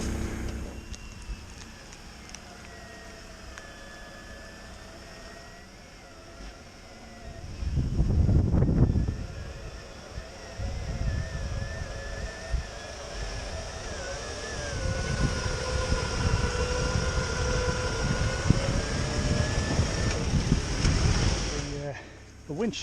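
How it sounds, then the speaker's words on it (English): A winch drones steadily as it pulls a stuck Ford Ranger up a slippery hill, with heavy wind buffeting the microphone in loud gusts and a thin mechanical whine rising and falling throughout. "we'll winch this car all the way to the top now"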